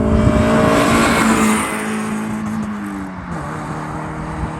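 A Mazda MX5 project car's engine revs hard on a spirited drive along twisty roads, loud and close with rising and falling pitch as it spins up, no talking.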